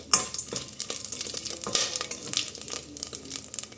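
Star anise, cloves, a small cinnamon stick, caraway and marathi moggu fry in hot oil for a tomato paneer pulao, giving a steady close sizzle with scraping stirs and small crackles throughout.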